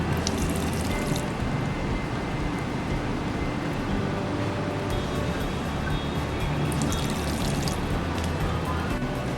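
Steady rushing and splashing of water pumped continuously onto field soil, with a constant broadband wash and no voices.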